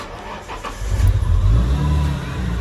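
Nissan Skyline engine cranking and catching, a low rumble swelling up and settling into a close, steady idle.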